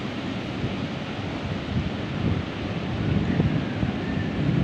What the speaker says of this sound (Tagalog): Hangin kay diri